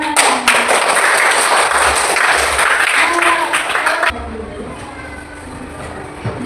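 A classroom of children claps together in a school lesson, a loud, brisk burst of applause lasting about four seconds before cutting to quieter room sound with voices.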